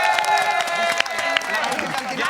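An Indonesian TV studio audience applauds Gary Iskak, a steady patter of clapping and light crowd noise behind a host's voice, close and lively for a couple of seconds.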